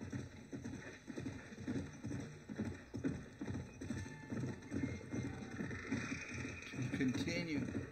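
Horse hooves clop rhythmically in the Red Dead Redemption Undead Nightmare video game, a steady galloping patter under continuous game sound and a talking voice.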